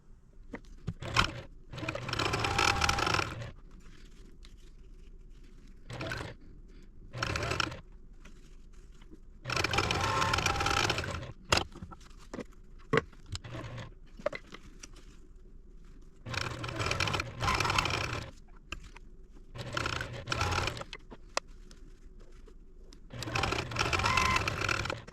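A sewing machine stitches quilt pieces for a baby quilt made from jelly rolls, in repeated whirring bursts of a few seconds each, separated by quiet pauses.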